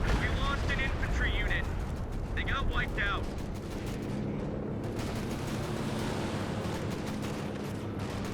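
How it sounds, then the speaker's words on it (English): Stuka dive bomber strafing and bombing in the Company of Heroes 2 game: a dense, steady rumble of gunfire and blasts over a busy battlefield bed, with a voice talking over it early on. "Stuka is firing."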